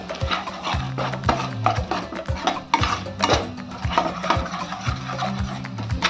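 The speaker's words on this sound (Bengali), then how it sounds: "এবার এটাকে ভালো করে কষাবো যতক্ষণ না মশলা থেকে তেল বেরোচ্ছে" Spice masala with coriander and cumin powder is stirred and sautéed in a pan for chicken changezi, making repeated metallic scrapes and knocks of a spoon against the pan over a low sizzle, close and steady, with no speech.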